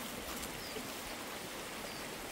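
River water flowing over stones, a steady broadband rush that stays even and continuous with no voices.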